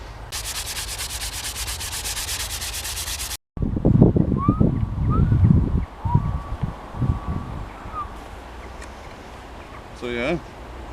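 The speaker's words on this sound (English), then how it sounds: "I'm just sanding it right now" Sandpaper rubbing steadily on a bow carved from ash wood outdoors by a river, a coarse scraping rasp that starts loud and continuous, then gives way to nearby talking and a short whistled bird call near the end.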